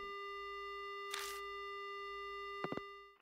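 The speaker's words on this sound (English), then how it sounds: "The only sound I hear is the dial tone." A phone dial tone in the video game Death Mark hums continuously, interrupted once by a short burst of static and later by a few quick clicks before ending.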